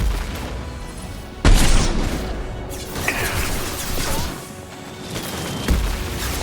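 A grenade blast in Mass Effect 2 lands as one sudden loud boom with a crashing tail, followed by smaller impacts and game battle noise, with no talk over it.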